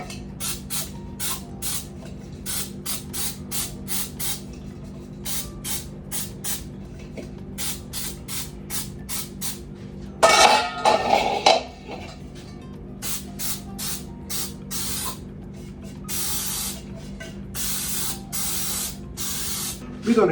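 Cooking spray greasing a bundt pan for pound cake: a rapid series of short, sharp hissing spritzes, with one longer, louder spray burst partway through, all close up.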